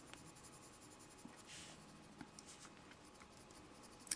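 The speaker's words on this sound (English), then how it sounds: "we're just re-establishing our light area a little bit by blending across it, making it a little bit smoother, taking out pencil lines." A colored pencil makes soft, scratchy blending strokes across paper while a holly leaf is drawn, heard close up and faint as gentle repeated rubbing with a few light taps.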